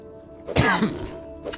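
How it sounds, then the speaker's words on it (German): A single short cough or throat clear from a man, close and fairly loud, standing alone against quiet background with a faint tap at the end. "Muss ich gerade mal husten."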